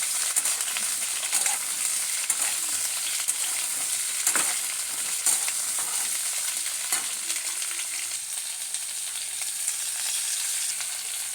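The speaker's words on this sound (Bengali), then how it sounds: "কড়াইতে দিয়ে দিলাম সামান্য পরিমাণ তেল এবার দিয়ে দেবো ফুলকপিগুলো এবার ফুলকপিগুলোকে ভালোভাবে ভেজে নেব" Cauliflower florets fry in a little oil in a wok, giving a steady close sizzle with scattered crackles and occasional stirring clicks throughout, no voices.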